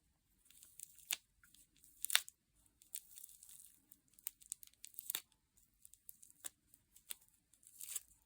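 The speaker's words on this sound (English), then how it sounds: "Now I'm going to cut all this yarn off." Scissors snipping through a bundle of yarn for a tassel, a series of quiet, close crisp cuts and fibrous rustles at irregular intervals over near silence.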